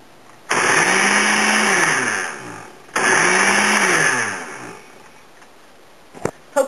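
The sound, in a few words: food processor pulsing pesto ingredients with olive oil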